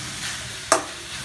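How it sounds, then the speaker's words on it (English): A utensil stirs vegetables and sauce in a hot pan for noodles: a steady sizzle underneath, broken by one sharp scrape of metal against the pan, close and clear. "Now give it a good mix."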